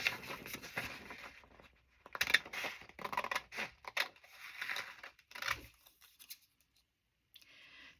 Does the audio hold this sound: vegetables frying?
no